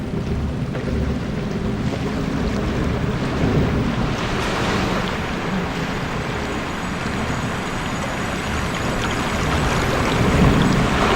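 A waterfall in the theme-park game Planet Coaster gives a continuous broad rushing roar, loud and unbroken throughout with no voices.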